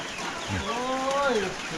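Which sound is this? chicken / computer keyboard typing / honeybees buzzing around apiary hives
chicken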